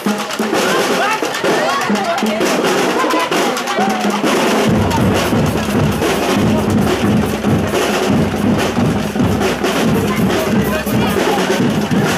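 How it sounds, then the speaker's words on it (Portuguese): Dense, loud crowd noise with clapping and cheering at a street parade, applauding a school fanfare band (CIEP 347), sustained throughout, with low-end intensity swelling partway through. "Vamos aplaudir os alunos da fanfarra do CIEP 347"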